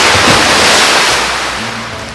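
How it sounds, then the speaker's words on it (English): A fountain's running water pours in a loud, steady rush of broadband splashing that gradually fades over a couple of seconds, with no voices over it. "Usually, a fountain has running water going through it."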